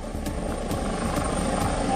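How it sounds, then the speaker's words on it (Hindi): A helicopter roars steadily overhead in Queensland, Australia, its rotor blades thumping in an even rhythm about twice a second over a loud, continuous engine drone, with no talk. "ऑस्ट्रेलिया के क्वींसलैंड में हवा में उड़ रहे 2 हेलीकॉप्टर आपस में टकरा गए"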